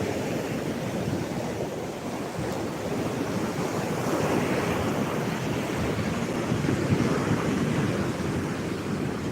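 Waves and wind on a large Gulf beach: a continuous broad roar of breaking surf mixed with buffeting wind against the microphone, steady and loud for the whole stretch with no voices.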